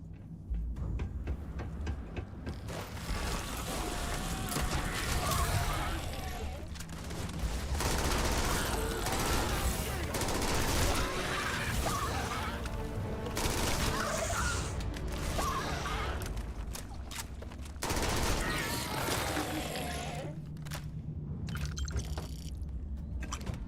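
Gunfire in Starfield, dense overlapping bursts and crackling shots running almost continuously over a busy, loud battle din, with a few short lulls and some speech mixed in.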